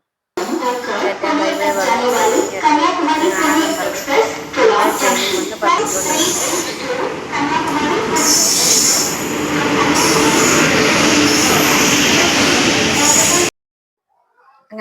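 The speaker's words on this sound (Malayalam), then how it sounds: "അവരുടെ ട്രെയിൻ ആദ്യം വന്ന് അവർ കയറി" Loud train rumbling and clattering on rails, with high metallic wheel squeals rising as it slows, ending abruptly.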